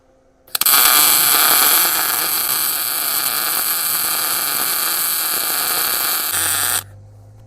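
Electric arc welding on a homemade steel trailer ramp, a loud, steady buzzing hiss that starts abruptly, holds for about six seconds and then cuts off, close up with no talking.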